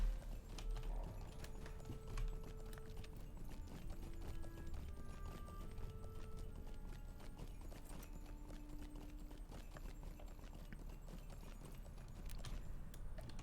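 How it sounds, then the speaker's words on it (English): Steady, rhythmic horse hooves clip-clop continuously throughout, a game-like galloping loop with faint background music tones. "I'm glad I'm allowed to ride my horse in here."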